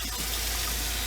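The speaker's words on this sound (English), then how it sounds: "hot water. Run that in there, run it really hot" Hot water runs from a sink tap in a steady, hissing gush, close and continuous for about a second, with no one talking.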